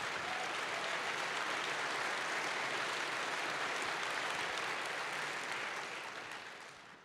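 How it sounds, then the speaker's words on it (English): An audience applauds after remarks about the marriage equality cases, a dense, steady wash of clapping that holds for several seconds and then begins to fade. "let's have a round of applause"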